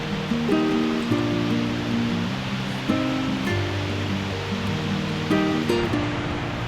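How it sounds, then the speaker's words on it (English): Water cascades beside a dirt trail in Krka National Park, Croatia, as a constant rushing wash. Melodic music plays over it throughout. "this dirt trail travels right next to cascading waters"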